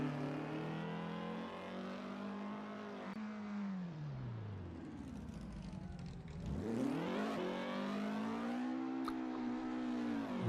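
A Porsche 356 in a racing simulator on the Goodwood hillclimb revs hard, its engine note dipping, then climbing and falling again, loud and continuous with no other sounds.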